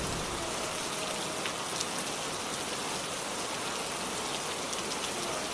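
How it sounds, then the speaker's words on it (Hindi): Steady, heavy rain falling on surfaces, a continuous even hiss with scattered droplet taps and no voices. "लोग खिड़कियों से बारिश देख रहे थे।"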